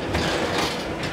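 A loaded trolley of FlexiRacks rolls into an MKN FlexiCombi combi oven in a commercial kitchen, giving a steady, close rumbling clatter of wheels with no pauses.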